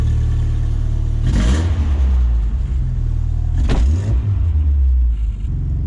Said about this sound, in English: I gotta replace that muffler, it's too loud.